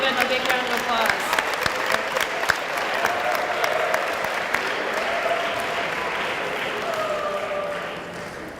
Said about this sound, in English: if you can please give them a big round of applause